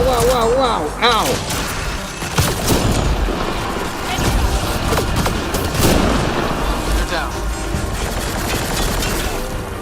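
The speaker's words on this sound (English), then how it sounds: "Why are you shooting at the wall?" Rapid video-game gunfire sprayed at a wall in Mass Effect: Andromeda, continuous dense automatic bursts with impacts and a loud, busy mix throughout, with voices talking over it.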